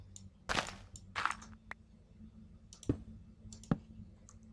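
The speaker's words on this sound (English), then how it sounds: "So sorry for my clicking noise." Computer mouse clicking during Minecraft play, a handful of scattered sharp clicks and short thumps, close and fairly quiet over a low steady hum, with gaps between them.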